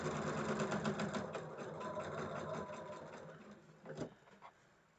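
A sewing machine stitching pairs of quilt block pieces runs in a rapid, steady whir for about four seconds, then slows and stops with a couple of short clicks and bursts. No one speaks.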